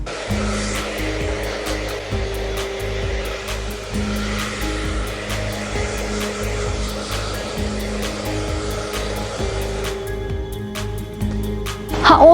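In a salon after a short haircut, a hair dryer blows loose cut hair dry, a steady close whooshing roar with pitch shifting as it moves, louder at the end.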